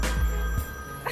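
A telephone rings during a call, a steady ringback tone heard twice in quick succession, fairly loud and close, with no one talking over it.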